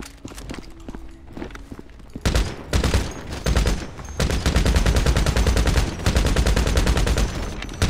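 Heavy gunfire from a big gun cutting down zombies in GTA 5, starting as scattered shots and building into loud, dense, sustained bursts that run almost nonstop to the end.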